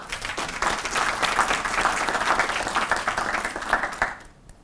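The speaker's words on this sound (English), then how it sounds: "let's give him a round of applause" A crowd applauds steadily for several seconds at a professorial inauguration, a dense wash of clapping that stays loud and then cuts off abruptly near the end.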